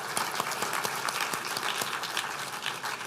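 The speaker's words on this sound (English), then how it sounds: "So round of applause for that" Steady applause from a banquet crowd at a rugby alumni dinner, dense clapping sustained and fairly even throughout, close and moderately loud with no voices over it.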